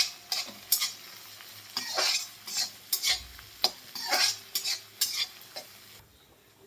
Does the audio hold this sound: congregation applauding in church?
no